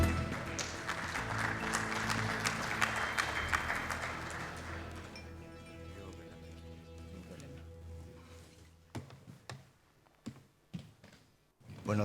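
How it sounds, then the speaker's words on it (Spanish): A conference audience applauds a panelist, the clapping dense and sustained for several seconds, then thinning to scattered claps as it fades out. "Quiero dejar con usted a Robert Kassen, a quien pido también un aplauso."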